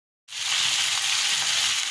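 Garlic, green chilli, onion and tomato hit hot oil and fry, a sudden loud sizzle that starts after a short silence and holds steady and close throughout.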